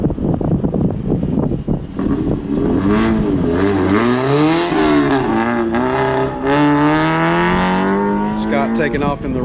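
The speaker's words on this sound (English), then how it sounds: "Taking off in the Robertson Racing Miata" A Robertson Racing Mazda Miata race car pulls away at an airfield autocross at Grissom AFB, its engine note climbing through the gears, loud and near, with wind buffeting and a commentator talking over it.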